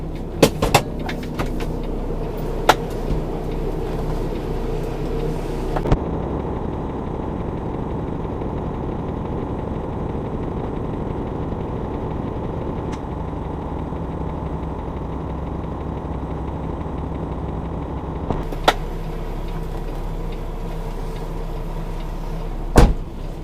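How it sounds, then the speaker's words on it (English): A semi truck's diesel engine idles steadily while backing slightly into a coupled reefer trailer at the kingpin and fifth wheel, a low continuous rumble with a few faint clunks and a brief hiss near the end. "Back into the trailer a little bit more just to make sure there's no binding on the between the kingpin and fifth wheel"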